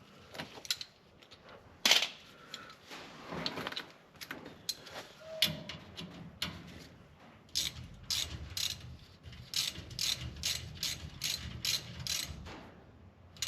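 Ratchet tightening the bolts on a Ford 8.8 differential cover of an F150, giving short runs of close, crisp clicking with scattered clanks and pauses between strokes.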